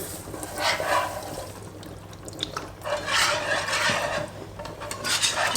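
Beef stock added a little at a time to one big pan for Swedish meatballs, heard as wet sloshing and scraping stirs in bursts, close and fairly quiet, with no talk.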